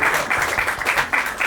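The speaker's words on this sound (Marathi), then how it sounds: "स्पार्क साठी जोरदार टाळ्या" An audience at a Marathi talent show applauds a performer, a loud, busy burst of clapping that swells in waves for a couple of seconds.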